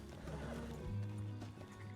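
A horse in a video game neighs with a loud, drawn-out whinny that rises and wavers near the middle, close by, and is joined by a faint clop of hooves.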